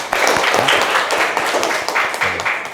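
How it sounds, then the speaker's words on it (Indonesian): Students in a nursing classroom clap for a classmate, a dense, lively patter of many hands filling the room, fairly loud and steady throughout with no voices over it. "Tepuk tangan untuk Dolisa."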